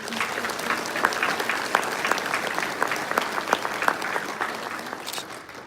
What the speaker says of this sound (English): So if we can please give them another round of applause.